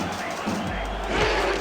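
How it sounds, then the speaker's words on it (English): A football stadium crowd at an Orlando home game against Tallahassee roars on third down and three, a dense, continuous wash of cheering that swells slightly toward the end. "The crowd can sense the importance."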